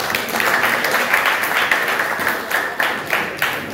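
Applause for company ambassadors at a ceremony of a national company, with a crowd clapping steadily for several seconds in a dense, continuous patter, a few sharper claps standing out near the end.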